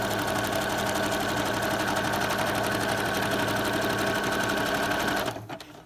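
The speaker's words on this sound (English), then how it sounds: "Just keep sewing until it reaches your thumb" A sewing machine runs continuously, stitching stacked ribbons, a dense steady mechanical whir that holds level for several seconds before stopping abruptly near the end.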